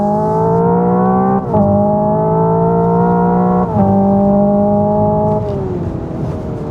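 A 2024 Hyundai Ioniq 5 N accelerates out of a hairpin at Sydney Motorsport Park, its loud synthetic engine note climbing in pitch through stepped shifts, up close and with no talk.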